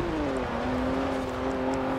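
A stock 1992 Alfa Romeo 155 Q4 in Forza Horizon 4, its engine revving steadily high toward the limiter with a sustained, slowly rising tone, loud and close throughout with no talk.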